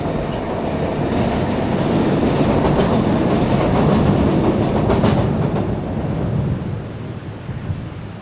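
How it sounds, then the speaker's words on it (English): A train rolls past nearby with a loud, sustained rumble and faint clatter that swells through the middle, then eases slightly toward the end. "And here comes the train."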